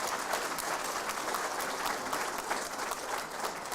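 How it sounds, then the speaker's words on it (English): Loud, sustained applause from an audience at a high school national examination results announcement, dense clapping filling the whole stretch with no voices on top. "Give them a loud applause."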